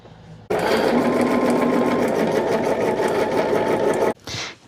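A sewing machine runs fast and steady while joining rows of a quilt center, a close, loud continuous whirring stitch that starts abruptly and stops after about three and a half seconds, followed by a brief handling sound.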